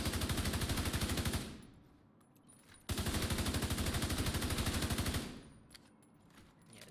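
Assault rifle fire in a raid shooter game: two long sustained automatic bursts of rapid, evenly spaced loud shots, separated by a brief quieter gap with faint clinks and background noise, no talking.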